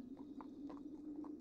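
A horse is led at a walk, its hooves clip-clopping in a steady close rhythm of several distinct strikes.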